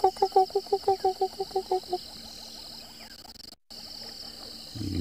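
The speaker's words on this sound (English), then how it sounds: "You can still hear quite a few crickets going." At sunrise on an African safari, a rapid run of loud pulsed calls opens the scene, then gives way to a softer chirring of crickets. A steady high insect drone runs underneath, with a brief dropout and a low rustle near the end.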